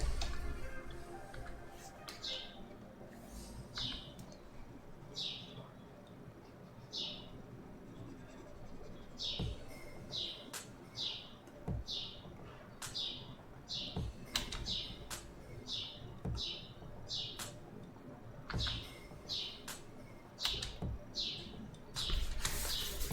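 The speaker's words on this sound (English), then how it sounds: "Why am I hearing a bird? Because that's a bird out there." A songbird outside an open window on a fine day chirps faintly and repeatedly in quick, bright notes, mixed with light tapping and clicking in a quiet room.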